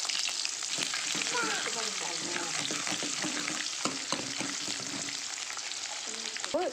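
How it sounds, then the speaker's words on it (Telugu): Urad dal and chana dal tempering in hot oil in a pan, giving a dense, continuous sizzle with crackles and a few stirring scrapes, close and fairly loud throughout, with no voices. "మినప్పప్పు పచ్చిశనగపప్పు అవన్నీ వేగిపోయాయి"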